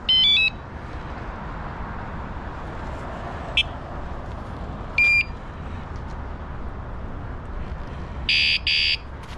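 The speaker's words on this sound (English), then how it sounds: "I think I just set the alarm on my bike somehow." A Zota Zephyr 20-inch fat-tire folding e-bike alarm sounds in short loud beeping bursts, a few spread out over steady road noise, with a last double burst near the end.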